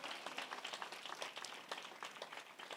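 A church congregation at an Easter sunrise service claps steadily, a dense patter of many hands with faint voices mixed in throughout.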